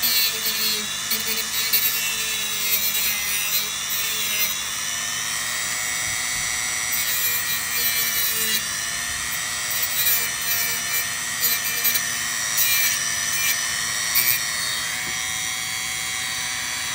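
A power tool cuts through wood with a constant high-pitched whine and rough grinding that runs steadily throughout, close and loud, with slight fluctuations in load.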